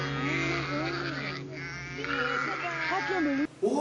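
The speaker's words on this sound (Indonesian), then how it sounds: "Begitu gembalanya ngomong, domba langsung mengenal dan datang kepadanya." Sheep bleat in a video played back during an online church service, wavering calls repeating over several seconds with voices mixed in.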